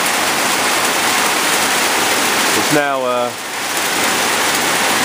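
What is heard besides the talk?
heavy rain falling in the morning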